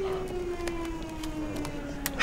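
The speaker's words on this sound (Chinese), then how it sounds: "最近咱们是不是一直听警报响？" Air raid warning siren, a long steady wail heard at a moderate distance under ambient noise.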